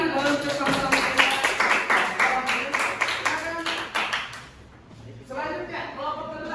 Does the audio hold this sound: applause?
yes